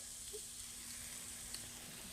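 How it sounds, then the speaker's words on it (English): Soft, steady sizzling of chicken frying on a hot grill, a continuous faint crackle with no voices. "So that grill is nice and hot. You can hear it sizzling already"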